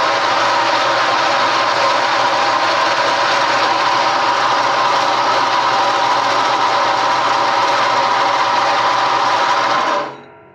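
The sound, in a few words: bandsaw cutting a piece of steel plate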